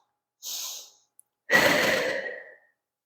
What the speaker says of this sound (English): I'm gonna take some nice big breaths